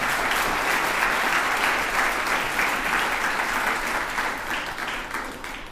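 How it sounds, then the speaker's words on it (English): An audience at a university sports hall of fame ceremony breaks into sustained applause, a dense wash of many hands clapping that holds steady and then slowly tapers off. "give that a round of applause."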